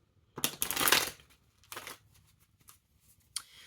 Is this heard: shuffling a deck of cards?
yes